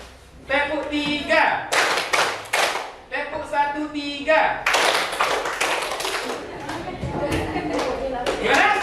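A group claps out rhythmic patterns in a tepuk clapping game used as an ice-breaker at an academic supervision coaching session. Sharp bursts of clapping alternate with chanted voices, and the claps grow denser and steadier toward the end.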